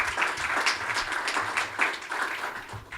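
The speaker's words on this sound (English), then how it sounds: "So please do give them a round of applause." Audience applause at a school choice discussion event, a moderate, even patter of many hands clapping at a middling distance, without talk.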